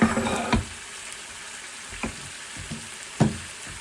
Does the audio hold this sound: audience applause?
no